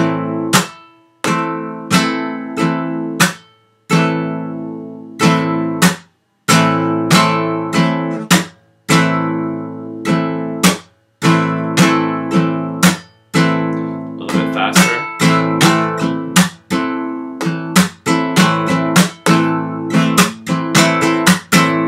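Flamenco rumba on Spanish guitar, a steady groove of bright strummed chords with thumb strokes and percussive scrapes, with loud accented hits, each ringing out and decaying before the next, looping in a repeated rhythm.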